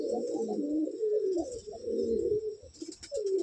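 Pigeons coo in a continuous low, rolling murmur close by, the throaty bubbling calls overlapping with a brief pause near the end and no talk.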